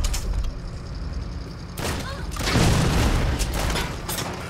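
A rocket from an RPG launcher explodes in the Saints Row video game, a broad booming blast that swells midway and rolls on through dense game noise and a busy, loud mix.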